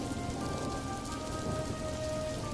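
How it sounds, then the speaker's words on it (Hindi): Steady rain pattering on a surface in a rural farm setting, a continuous even hiss with no speech over it. "अरे ये क्या, बारिश शुरू हो गई।"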